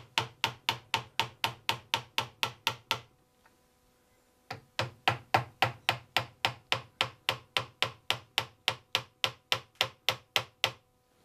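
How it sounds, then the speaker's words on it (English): A tack hammer taps fine upholstery nails into an antique tea cart in quick, even strikes, about a dozen, then a short silence, then a longer run of steady taps, close and clear. "I'm using a tack hammer and upholstery hammer,"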